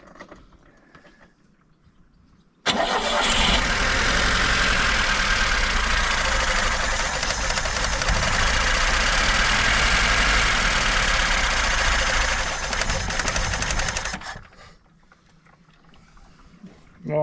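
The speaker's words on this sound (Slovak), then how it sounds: "Spojka funguje, motor ide jak tak" A Lada Zhiguli car engine starts abruptly and runs loud and close for about eleven seconds with a rough, steady idle before cutting off, leaving quieter background.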